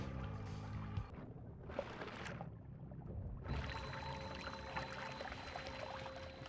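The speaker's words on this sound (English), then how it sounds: "I poured a bunch of water in there" Water pouring and sloshing into a room in the Noita video game, a rushing, splashing wash that comes in separate surges over the ambient game sound.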